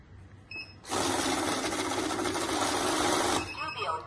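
An automatic mixed-note cash counting machine runs for about two and a half seconds, a loud, steady whirring rattle of notes feeding through, starting and stopping abruptly with brief mechanical clicks before and after.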